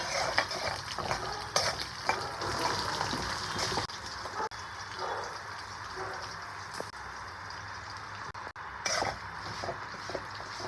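Peanuts and tempering spices fry in a pan with a busy crackling sizzle, punctuated by stirring scrapes and small pops, fairly quiet and close with no talking.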